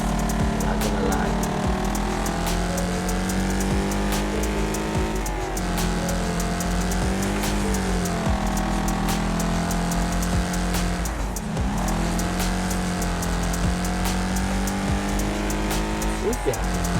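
A car in the Dirt Car 4 racing game hums with a steady engine drone that rises and falls through gear changes and turns for the whole stretch, loud and continuous, with a little tire noise.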